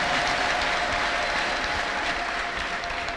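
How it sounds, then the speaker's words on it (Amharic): A church congregation claps in praise during a prophet's service, sustained applause filling the room evenly, with a faint tone running underneath and no voices. "ለጌታ እስቲ አጨብጭቡ"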